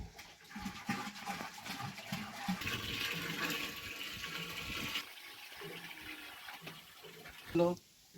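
Cow urine gushes from a container into water for making jivamrut, a splashing pour lasting several seconds that then tapers off, with someone talking alongside.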